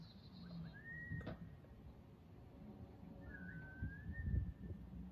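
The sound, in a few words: stranger's erratic whistling pattern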